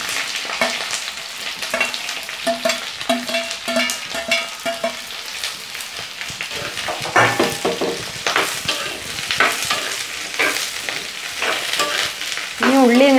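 Chopped onions frying in oil with curry leaves for ulli theeyal, a loud crackling sizzle broken by repeated spatula scrapes and stirs, with a brief melodic tone in the background early and again at the end.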